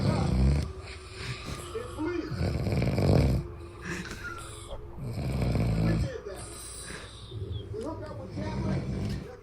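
A person snores in a recording, with four slow, rhythmic, rasping breaths close to the microphone.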